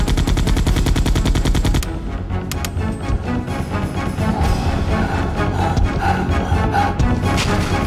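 Rapid automatic gunfire from soldiers in the PS1 game Resident Evil 2, a dense loud burst of shots for about two seconds, then scattered heavier blasts, thuds and crashes continuing through the rest under game noise.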